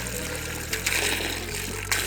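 Water runs from a tap at a free campsite near Daylesford, Victoria, making a steady gurgling trickle close to the microphone with a few splashy surges.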